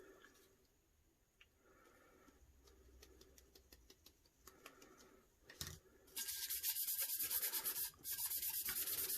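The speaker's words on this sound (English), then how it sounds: "I'm just gonna burnish it in using my gloves" Gloved fingertips burnish chameleon mica powder onto a tack-it tumbler, starting as soft intermittent rubbing and ticks, then building into a loud, steady, close scrubbing friction that runs almost without pause to the end.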